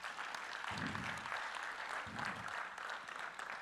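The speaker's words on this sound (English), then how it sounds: "Can you clap for that?" Faint, distant applause from an audience at a regional research symposium, a soft steady patter with low murmuring beneath it.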